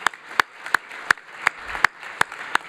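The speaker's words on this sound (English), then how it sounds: "So, give a round of applause to the Context team." Scattered, sparse clapping at a cybersecurity conference session, about eight distinct sharp claps spaced unevenly across a few seconds, close and clear against near-silence.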